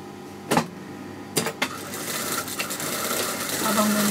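A sewing machine runs through trouser kameez fabric as a continuous whirring hum that builds steadily in loudness, broken early on by a few sharp clicks and knocks of handling.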